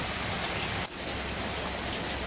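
Heavy rain pours down steadily as a dense, loud, continuous hiss with a very brief dip partway through, and no other sounds stand out.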